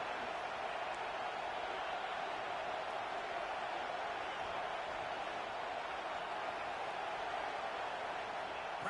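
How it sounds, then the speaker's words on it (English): A football stadium crowd roars steadily throughout a fourth-down play in a South Carolina at Penn State game, a dense, continuous wash of cheering with no breaks. "Crowd trying to help out here on fourth down."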